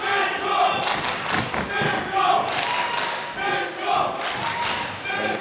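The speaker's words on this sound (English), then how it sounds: "Crowd here at the Ballerup Super Arena still making plenty of noise" Arena crowd at a Cage Warriors cage fight in the Ballerup Super Arena, a loud continuous roar of cheering and shouting with swelling bursts and thuds, without clear talk over it.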